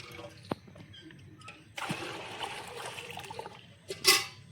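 Water poured into a bucket holding fresh cow dung to mix a plant tonic, a ten-litres-per-kilo ratio; a steady splashing, trickling pour runs for a couple of seconds, then a short louder splash near the end, close by.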